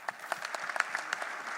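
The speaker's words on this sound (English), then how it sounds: "please give yourself a round of applause for this" A brief round of applause from a full house at a youth convention plenary session, fairly close and clear, with individual claps standing out in a quick, uneven patter.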